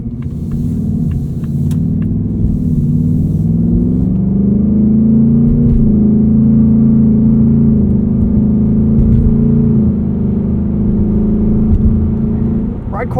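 A 2024 Ford Mustang GT Premium coupe with a 10-speed automatic cruises along, its engine a steady, even low drone that holds throughout with a slight swell in the middle.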